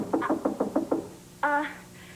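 Five quick knocks rap on a door in an even rhythm, fairly close and clear, followed by a brief tonal sound, with no speech.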